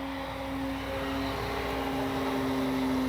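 An Avios Extra NG RC plane flies overhead in the evening, its motor a steady, moderately loud drone with a constant whining tone that swells slightly as it passes, with no talking.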